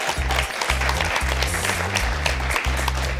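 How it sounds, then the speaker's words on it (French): An audience applauds student debaters at a French-language debate contest involving the University of Ottawa debate society: steady, dense clapping that runs throughout over low music. "tout le monde, on peut les applaudir"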